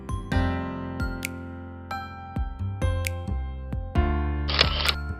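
An iPhone 15 Pro Max and a G7X Mark III compact camera fire one-second exposures in a darkened room: a series of sharp, irregularly spaced mechanical clicks, each followed by a brief ringing tone.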